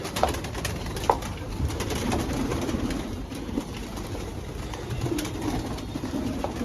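Pigeons coo steadily and close by, a soft continuous murmur of many birds just let out of their enclosure, with no talking.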